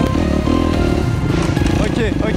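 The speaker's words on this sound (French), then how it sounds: "la moto elle accélère super fort" A motocross motorcycle on a dirt track revs and accelerates with a loud, close, raspy engine roar that fills the short stretch, with a voice heard over it.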